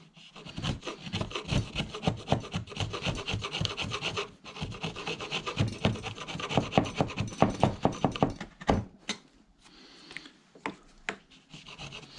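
Wood on a keyboard stand being trimmed by hand, a steady run of close, rough rasping strokes that speed into quick sharp scrapes, then a few sparse scratches near the end; no talking.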